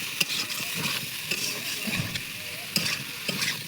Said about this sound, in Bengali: এই সেদ্ধ করা আলু আর এঁচোড়টা দিয়ে দিলাম, দিয়ে এটা ভালোভাবে কষাই করতে হবে।